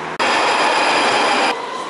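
Subway train roaring through an underground station, a loud, steady rush of wheels and rail noise that starts abruptly, holds for over a second, then cuts off.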